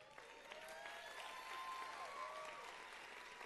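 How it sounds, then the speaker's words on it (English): Audience applause for a PhD graduate at a nursing college convocation ceremony, steady and dense from many hands, moderately distant, with faint voices mixed in. "Round of applause for her."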